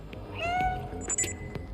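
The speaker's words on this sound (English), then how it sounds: "the meow button I had been incessantly pressing with no consequences up until that point could suddenly alert a guard to my presence" A cat character meows in the video game Stray, one drawn-out, close and fairly loud meow followed by a couple of brief higher chirping game sounds.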